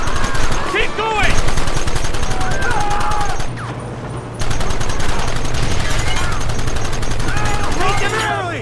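Sustained bursts of rifle and pistol fire from the Red Dead Redemption video game crackle loudly and nearly without pause, briefly thinning near the middle, while in-game characters shout through the battle.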